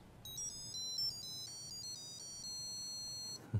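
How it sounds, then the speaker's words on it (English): A bright phone ringtone melody from an electronic buzzer plays short beeps, clear and fairly close, with a quiet room behind it. "There's a familiar phone ringer."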